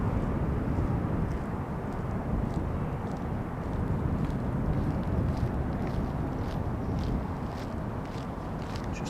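A KLM Boeing 777, fifteen years old, arriving at Amsterdam Schiphol on runway 18R after a flight from Toronto, heard as a steady, broad jet roar that holds fairly constant throughout, with no voices.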